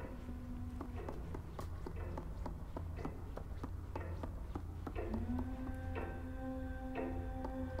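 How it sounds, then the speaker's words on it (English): Steady mechanical clock ticking in the video game Little Nightmares, a regular tick-tock repeating about once per second at moderate level over an ambient drone, with sustained tonal notes entering partway through. "I hear a clock ticking."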